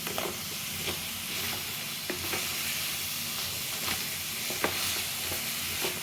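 Crab masala is stirred in a pan, a soft steady sizzle broken by periodic scraping clicks of the spoon, close but quiet, with no talking.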